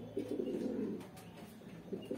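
A male desi Giribaz pigeon gives soft, low, throaty coos close by, a short rolling series that fades and returns near the end.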